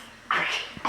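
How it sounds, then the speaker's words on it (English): A single close sneeze from a child, a sharp broadband burst that starts abruptly and holds briefly before a short breathy tail, with no talk over it. "You just want to sneeze at us."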